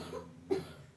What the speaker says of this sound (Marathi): तर तिचा खोकण्याचा आवाज येते